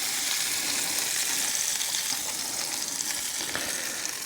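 Butter melts and sizzles in a pan over a campfire, a steady, dense frying hiss that holds close and even throughout with no one talking.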